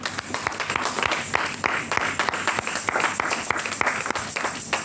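A church congregation claps vigorously and continuously, with cheering voices rising through the dense, lively applause.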